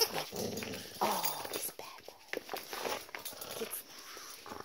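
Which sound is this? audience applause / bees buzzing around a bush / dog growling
dog growling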